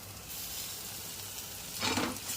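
Ginger garlic paste sautéing in a pan with tomato and salt for a spicy crab curry, giving a steady soft sizzle that swells louder near the end, likely as the paste is stirred in.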